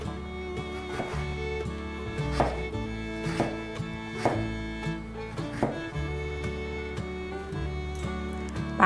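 A knife shreds taro slices on a cutting board, with sharp chops landing at an uneven rhythm of roughly one per second over soft background music.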